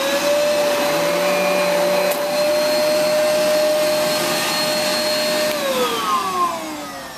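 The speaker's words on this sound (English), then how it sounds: "pull it loose, turn the vacuum back on, and it's ready to go" A vacuum cleaner runs steadily with a loud, continuous whine and broadband roar, its pitch dropping near the end as the motor slows.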